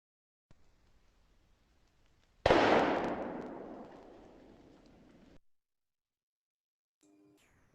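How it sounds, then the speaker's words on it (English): A single loud, sharp gunshot cracks suddenly and then decays in a long echoing tail over a few seconds before silence. "Yeah, it was a gunshot."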